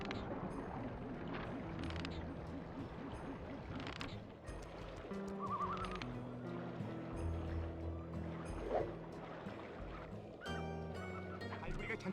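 A boat moving across water in the Sly 2 video game, with a steady low engine drone and lapping water, heard against game music and effects.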